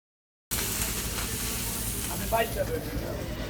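Padma hilsa fish frying in hot oil at a riverside stall at Mawa Ghat, giving off a steady, dense sizzle that starts suddenly and runs throughout.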